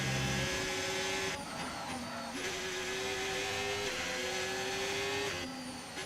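Formula 1 race car engines in the video game F1 25 whine and rev continuously over a music bed, pitches rising and dropping as cars shift gears, sustained throughout without pauses.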